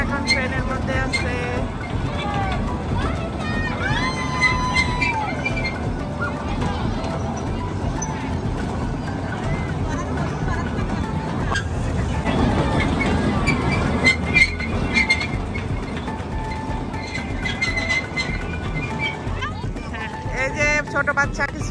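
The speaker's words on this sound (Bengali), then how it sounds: "ট্রেন চলতেছে এখন, বাচ্চারা এখন ট্রেনের মধ্যে আছে" A children's train ride runs with kids aboard, its steady rolling rumble continuing under a dense wash of nearby voices and crowd noise.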